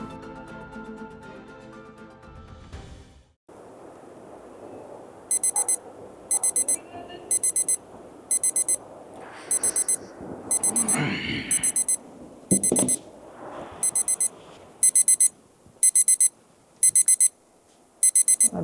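An alarm clock rings in repeated short electronic bursts, about a dozen evenly spaced beeps, loud and close, sounding over a quiet room after music fades out.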